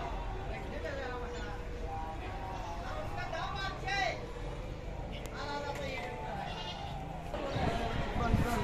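Goats bleat now and then in a busy livestock market, with several short wavering cries over steady crowd babble and nearby voices talking.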